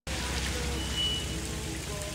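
Steady, dense rain falling in a movie scene, an even close hiss of drops on surfaces that continues without a break.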